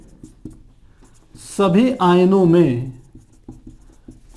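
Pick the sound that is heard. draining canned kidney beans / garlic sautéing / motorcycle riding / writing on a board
writing on a board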